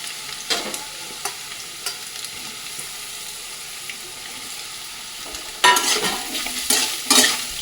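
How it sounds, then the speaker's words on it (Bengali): Steady sizzling of potatoes frying in a pan, with scattered scraping stirs and a louder burst of clattering stirring near the end. "দেখো আলুটা একটু ভাজা ভাজা হয়ে এসছে"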